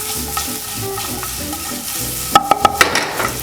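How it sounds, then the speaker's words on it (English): Garlic and mushrooms frying in a pan, a steady close sizzle with a burst of quick utensil scrapes and taps against the pan as it is stirred. "And then you can add the garlic."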